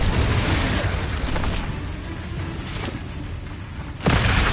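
A spell blast from Confringo in Hogwarts Legacy booms out over a steady rumbling background, with a sharp burst near the end rising louder and fuller.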